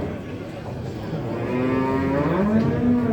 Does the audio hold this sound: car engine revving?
no